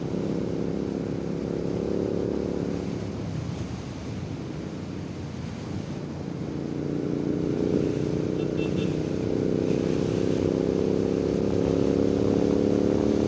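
A motorcycle rides along the road with a steady, continuous engine drone heavily mixed with rushing wind noise on the microphone, loud and unbroken throughout.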